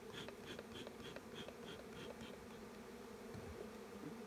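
Bees buzzing busily around a hive with a single brood box in spring, a steady dense hum of many insects close by with some individual bees passing near, no talking.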